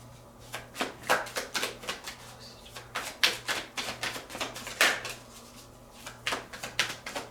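Cards are riffled and tapped in a quick series of crisp, rhythmic bursts, close up, with short pauses between shuffles and splits.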